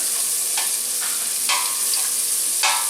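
Sausages frying in a pan in their own fat with no added oil, a steady close hiss with occasional brighter crackling bursts and soft pan scrapes, no voices.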